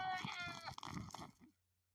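A goat bleats in a few wavering, nasal calls up close, then the sound cuts off abruptly into near silence.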